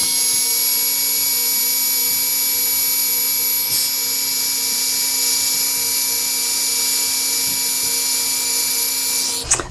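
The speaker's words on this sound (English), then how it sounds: "here's my heat tool. So let's go ahead and heat emboss both of these items." Heat embossing tool blowing hot air to melt embossing powder, a loud, steady close whirr with a high whine that runs unbroken until it switches off at the very end.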